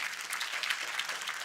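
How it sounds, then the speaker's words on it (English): Steady applause from a crowd, dense and continuous clapping heard from a moderate distance. "one more round of applause for your 2019 Scouting Grounds Honda"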